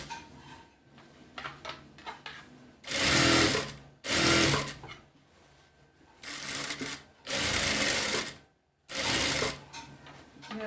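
A sewing machine stitches the second seam of a cowl sleeve for an umbrella frock, running in four loud, steady bursts of a few seconds each, separated by quiet pauses with light handling noises.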